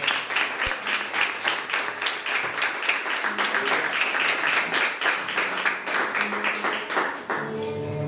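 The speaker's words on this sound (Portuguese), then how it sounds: "Quem pode aplaudir o Senhor Jesus nessa noite?" A church congregation claps and applauds during an evangelical service, a dense wash of hand claps sustained for several seconds with a few voices faintly mixed in, tapering toward the end.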